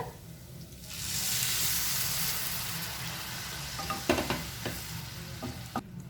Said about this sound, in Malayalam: നമ്മുടെ ഗ്രീൻ പീസ് വേവിച്ച വെള്ളമാണ് ഞാൻ ഒഴിച്ചു കൊടുക്കുന്നത്